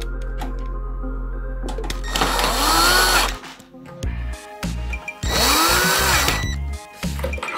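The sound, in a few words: screws being tightened into PC case power supply mount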